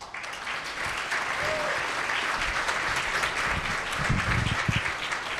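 A crowd claps steadily at a model UN opening ceremony, sustained applause filling the room at moderate loudness.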